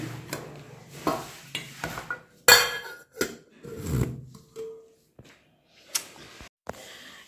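Tiffin lunch boxes being packed in a home kitchen: scattered metallic clinks, clatters and knocks of steel containers and lids, irregular and close, with quiet gaps between bursts.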